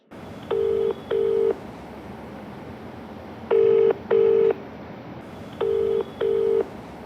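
A telephone call ringing through after a number is dialed: three evenly spaced pairs of steady electronic ring tones, each pair a quick double burst separated by a couple of seconds of quiet line hiss.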